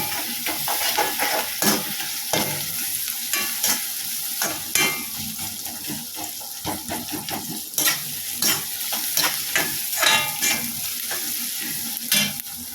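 Chopped onions and crushed garlic sizzle steadily in hot oil for chilli sambar while a ladle stirs and scrapes the pan in frequent clinks, close and fairly loud, with no voices.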